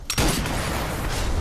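A sniper rifle shot in the VR game Sniper Elite VR, a sharp crack followed by a loud, sustained booming roar that fills the brief moment.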